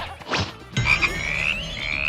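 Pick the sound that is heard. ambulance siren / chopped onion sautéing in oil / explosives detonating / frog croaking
frog croaking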